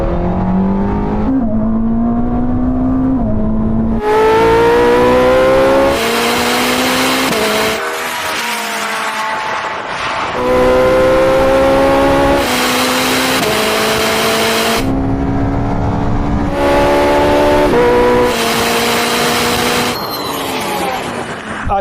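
A Ferrari SF90 and a Porsche 918 accelerating hard from a rolling start in a half-mile drag race, engines screaming loud and close as they climb through repeated rising gear pulls with sharp shift breaks.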